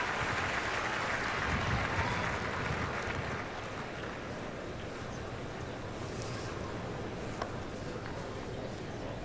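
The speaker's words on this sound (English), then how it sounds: "you heard the applause from the crowd as well" Steady applause from the crowd at a Canadian Olympic curling trials match, a broad wash of clapping from a large arena audience that holds evenly throughout, heard at a distance.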